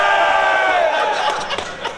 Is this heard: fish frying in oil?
no